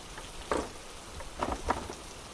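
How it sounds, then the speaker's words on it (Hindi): Heavy rain pours as a storytelling sound effect, a steady wash of noise broken by a few louder gusty bursts, with no one speaking. "तेज बारिश हो रही थी"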